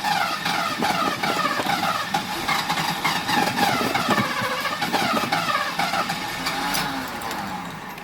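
A Mercedes-Benz W126 380SE engine that starts easily and then stalls, running with a loud, close, lumpy idle and a rough, uneven throb throughout.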